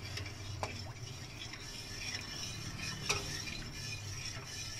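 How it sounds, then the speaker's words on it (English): A spoon stirs gelatin mixture into a mango dessert in a pot with the gas switched off, giving a soft, continuous scraping swirl with a few faint clinks, close and fairly quiet, with no talking. "You have to keep mixing it while you're adding the gelatin mixture."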